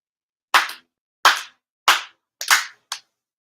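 Five sharp ritual hand claps ring out at a Shinto worship ceremony honoring distinguished service to the faith, spaced about half a second apart, the last two closer together, each crisp and loud against silence.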